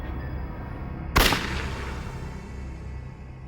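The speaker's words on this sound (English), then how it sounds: "her roommate, Dale Okazaki, heard the gunshot." A single sharp gunshot from a .22 rifle in a staged crime scene, one loud close crack with a brief decaying tail over steady background noise.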